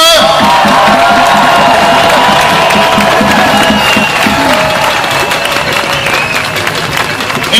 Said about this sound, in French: Une grande main d'applaudissements pour eux.